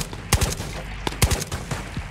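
Gunfire in the video game Ghosts of Tabor: several sharp, fairly distant shots in an irregular rhythm, spread over about two seconds against a steady noisy background.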